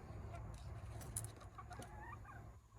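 A chicken walking along the edge of its tray, giving soft, faint clucks and light scratchy movement sounds against quiet background noise.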